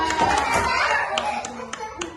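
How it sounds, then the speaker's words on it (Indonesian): A classroom of children clapping for a classmate and her group, a short burst of scattered claps with brief talking mixed in, thinning to a few sharp separate claps near the end. "Kasih tepuk tangan buat Mbak Alia sama kelompok 2"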